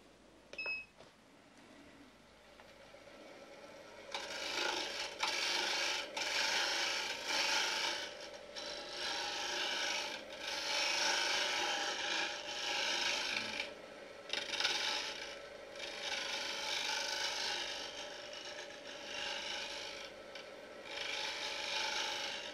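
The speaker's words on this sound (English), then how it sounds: "Bring it around and I will shape with that shear scrape." Shear scraper shaping a wooden tea light holder on a lathe, a continuous rasping scrape in repeated passes with brief pauses between strokes, close and fairly loud.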